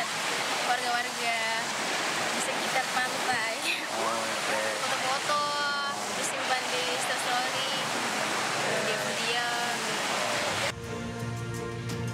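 Waves wash steadily onto the beach at Mattirotasi at sunset, a broad continuous surf roar that holds fairly loud throughout before cutting off abruptly near the end.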